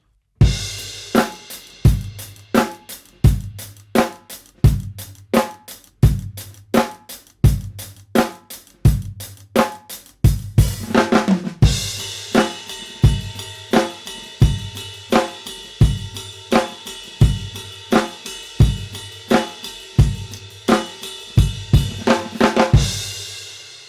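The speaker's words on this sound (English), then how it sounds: "combine the hi-hat and the ride type of approaches that you have with a little fill, a little crash," Half-time rock drum groove on a kit, first on crisp hi-hat, then switching after a short fill and crash to a washier ride cymbal pattern with steady snare backbeats, loud and close throughout.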